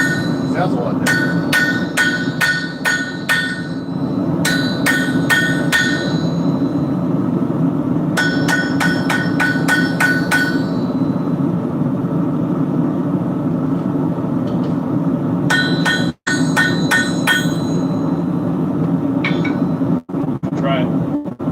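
A hammer strikes steel on an anvil at a forge, loud close bursts of rapid ringing blows separated by pauses, over a steady low roar of forge equipment.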